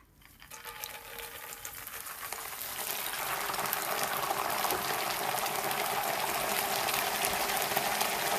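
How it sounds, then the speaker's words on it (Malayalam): Peanuts roasting in a pan for Kerala mixture, heard as a steady sizzling hiss that builds over the first few seconds and then holds loud and continuous. "കപ്പലണ്ടി വറുത്തെടുക്കുകയാണ്"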